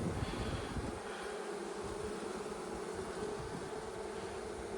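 A dense, steady drone of honey bees buzzing at an open hive while a queen is released among them, a continuous close hum with no voices.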